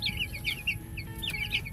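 High, repeated peeping chirps from chicks mix with soft low clucking from hens, a busy flock close by on a chicken farm over a faint background hum.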